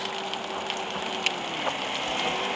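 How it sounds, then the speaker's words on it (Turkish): Steady rain in the game Bus Simulator Ultimate patters across surfaces in a dense, even hiss, with occasional sharper drops and a faint low hum beneath. "Evet, yağmur sesiyle beraber"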